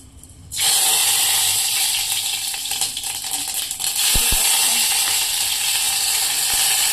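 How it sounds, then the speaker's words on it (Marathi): Loud, steady crackling sizzle of mustard seeds hitting hot oil, starting abruptly and continuing densely throughout, with a few sharp pops. "आता फोडणी देऊया"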